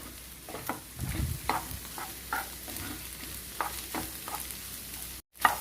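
Frying egg for egg rice is stirred in a pan: a spatula clacks and scrapes every half second or so over a soft, close sizzle, with no one speaking.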